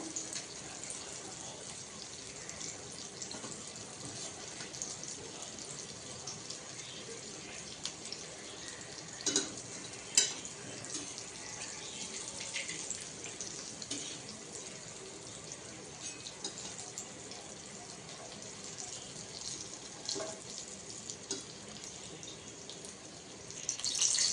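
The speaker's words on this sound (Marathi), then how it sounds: "बघा मी बाकीची मच्छी तळून घेते" Surmai fish frying in a pan of hot oil gives a steady, fairly quiet sizzling hiss that runs unbroken for the whole stretch, with a few slightly louder crackles.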